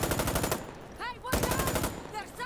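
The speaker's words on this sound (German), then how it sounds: "Irgendwelche Teammates hier auf ihn schießen" Automatic weapon fire in the cooperative mode of the video game Insurgency: Sandstorm: two loud, rapid bursts separated by a short pause.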